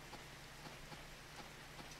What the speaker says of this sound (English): there's no music because it's just rain